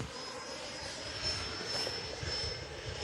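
Electric ducted fan of an FMS F-18 70mm RC jet running steadily at part throttle, a continuous broadband whoosh with a thin high whine, close and fairly loud with no talk.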